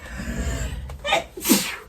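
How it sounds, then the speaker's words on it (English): A single sneeze bursts out at close range near the end, preceded by a quick intake of breath, over a low hum in a quiet sewing room. "Sneeze."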